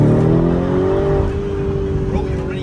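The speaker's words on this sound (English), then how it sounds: "So what did we do? Well, we got a Lambo Urus. And let me tell you, this car was different." A Lamborghini Urus SUV drives at speed, its engine note steady and loud with rising harmonics, tire and wind roar filling the background while a voice speaks over it.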